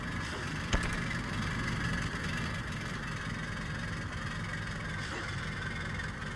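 A tractor engine in Stubbs the Zombie drones steadily as it labors up a steep hill, a low continuous rumble that never lets up, with a single sharp knock near the start.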